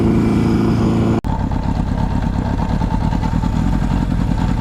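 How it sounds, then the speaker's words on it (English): A barn-find Honda CB750 motorcycle engine holds a fast, high idle, a steady loud mechanical drone with a brief dropout near the start before it resumes unchanged. "It's got like a majorly high idle right now."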